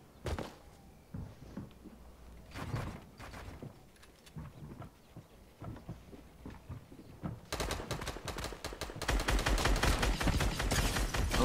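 Drum gun fire in a video game: scattered single shots and short bursts at first, then a sustained, loud rapid-fire stream of gunfire building toward the end.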